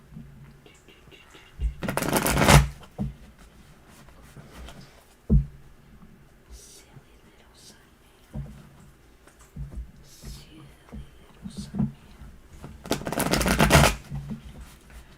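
Two loud bursts of tarot cards being riffle-shuffled, several seconds apart, with quieter handling clicks and taps between them.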